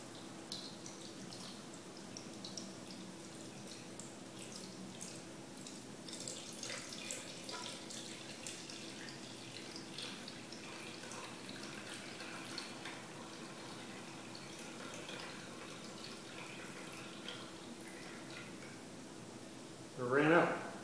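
Water poured from a container into a bowl for pizza dough, a steady faint trickling stream running throughout, ending with a short louder splash.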